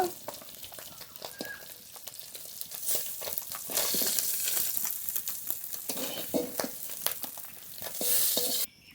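Fish sizzle steadily in a pan of hot oil for several seconds, a broad crackling hiss with scattered pops and occasional scraping stirs, close by and moderately loud.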